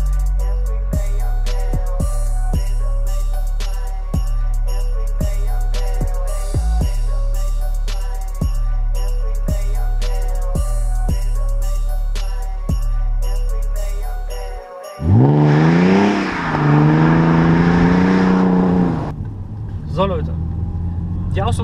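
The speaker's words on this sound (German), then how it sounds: "Wir müssen noch gucken, ob die Auspuffanlage etwas gebracht hat." A BMW E39 523i with an M52TU engine, Schmiedmann headers, Magnaflow catalytic converters and an Eisenmann rear muffler revs loudly in a few rising bursts near the end, after a long stretch of beat-driven music.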